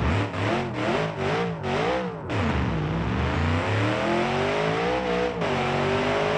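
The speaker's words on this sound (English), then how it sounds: "I want to floor it and see if the noise will change." A car engine floored at full throttle inside a tunnel, several rapid revving pulses giving way to a long, loud, echoing acceleration roar with climbing and shifting pitch, no talk over it.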